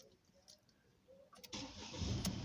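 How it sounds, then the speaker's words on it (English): A 2018 Ford Focus that had been failing to crank starts up: a quiet interior with a few faint clicks, then the engine catches and settles into a loud, steady idle close by. "See if I can start the car now."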